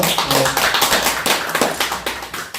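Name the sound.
congregation applauding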